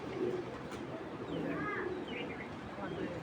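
Racing pigeons coo softly in a loft during a sale showing, a few brief rolling coos under steady background noise and handling sounds.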